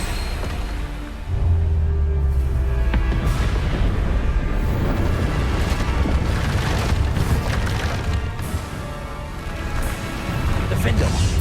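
Bombarda spell blasts in the video game Hogwarts Legacy, loud booming explosions over dense combat noise and a continuous rumble, with a voice calling out spell names throughout.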